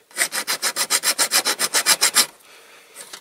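Close, rhythmic rasping of a file on small die-cast metal parts from a Dinky Toys Bedford Pullmore car transporter, about fourteen even strokes that stop abruptly, followed by a few faint scrapes.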